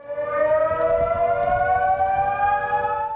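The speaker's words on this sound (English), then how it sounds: "The ominous sound of a flood siren in Appleby in Cumbria last night." A flood warning siren in Appleby, Cumbria, during Storm Isha wails steadily and loudly, its pitch slowly rising as the long tone holds without a break.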